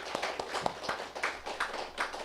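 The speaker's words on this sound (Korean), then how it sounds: "박수" A church congregation gathered for a Christmas Day Eucharist gives a short round of applause, soft and somewhat distant, with irregular claps over a few seconds.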